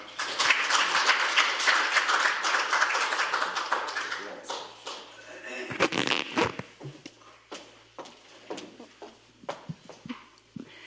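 An audience applauds to welcome a trend-forecasting center director onto the stage at an economics lecture: dense clapping for about four seconds, then thinning into scattered individual claps, taps and small handling noises.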